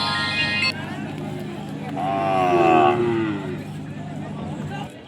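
Ongole calves at a Sunday cattle market in Kodad give a long drawn moo in the middle, near and loud, over crowd chatter and nearby talk.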